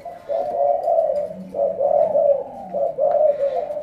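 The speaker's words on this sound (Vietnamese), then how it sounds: "chim gù cứng luôn." A spotted dove coos close by in a run of soft, rounded, repeated calls with brief pauses between phrases, alone without talk.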